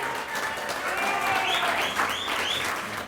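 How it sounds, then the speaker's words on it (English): Banquet audience at a racing awards dinner clapping for a driver, steady moderate applause with whoops and cheers rising in the middle. "So how about a round of applause for our 7th place driver this year, Tracy Bolin"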